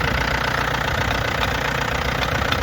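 A car engine runs loud and close for a few seconds with a steady, rough drone and slight knocking. The pitch stays level, with no other sounds.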